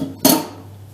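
A single sharp clatter as a bowl of Gülüt cake batter, just mixed with a spatula, is picked up close by, then a quiet room tail.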